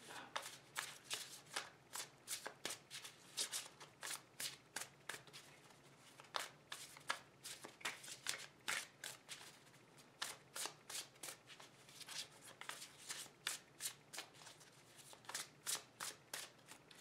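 A Witch's Tarot deck is shuffled over and over in quick, crisp riffling bursts, heard close and fairly quiet with short pauses between them and no talk.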